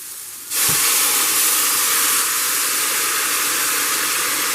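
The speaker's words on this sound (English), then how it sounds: "That's called deglazing." A hot pan being deglazed while cooking dinner bursts into a loud, broad steam hiss that starts suddenly and holds steady, with a brief sizzle at the onset.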